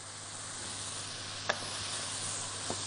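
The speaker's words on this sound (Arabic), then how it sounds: "ومجرد ما يتشوح شويه كده مع الفراخ ابدا انزل بالثوم" Onion sautéing with chicken in hot oil in a pan, a constant close sizzle with a couple of brief clicks from stirring.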